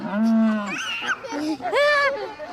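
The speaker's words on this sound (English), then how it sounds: "The seal's calling." Seals call out loudly and close by, giving drawn-out, wavering moaning cries, one long call and then another rising call after a short pause, with nothing else masking them.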